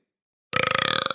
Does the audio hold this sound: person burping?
yes